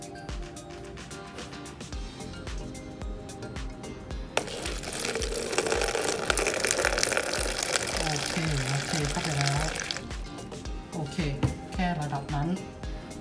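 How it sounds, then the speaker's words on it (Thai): Water is poured into a container under a heating pack for a self-heating dessert hot pot, a steady splashing fill of several seconds between clinks of packaging, with a voice talking throughout. "แล้วเราก็จะเริ่มเทน้ำซึ่งระดับน้ำที่เทก็แค่นี้น้อยมาก"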